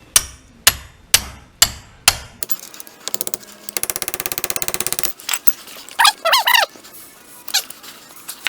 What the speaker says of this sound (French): on va mettre un petit burin là. Et on va taper pour essayer de la dégager